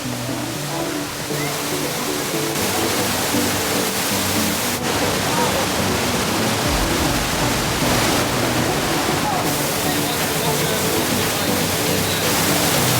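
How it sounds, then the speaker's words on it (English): Trümmelbach Falls in Switzerland, a waterfall inside carved rock tunnels, roars as a loud, steady rush of falling water that fills the whole stretch without a break. "He's going to show us Trommelbach Falls this morning."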